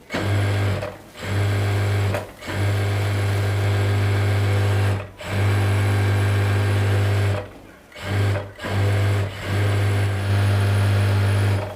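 A commercial sewing machine whirs steadily at high speed in bursts, with several brief pauses between runs; loud and close, no talking.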